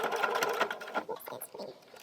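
A sewing machine stitches T-shirt fabric for a small plush doll outfit, its rapid mechanical whirr running steadily up close and easing off near the end.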